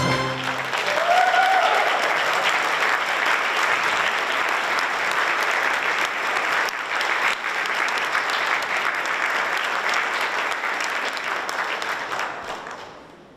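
Sustained applause from a concert audience at a Broadway-themed music school show fills the room, dense clapping that swells quickly, holds steady for several seconds, then tapers off at the end.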